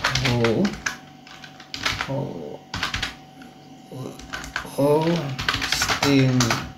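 Fingers tap out quick bursts of clicks on a computer keyboard, the keystrokes coming in short runs beneath someone talking close by.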